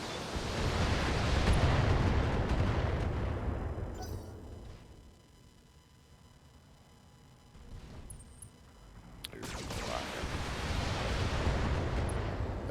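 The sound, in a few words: weapons fire and explosions in BattleTech video game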